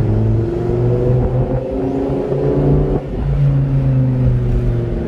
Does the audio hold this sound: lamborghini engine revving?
yes